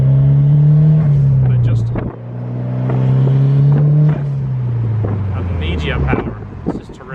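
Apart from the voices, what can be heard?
Honda S2000 with titanium exhaust accelerating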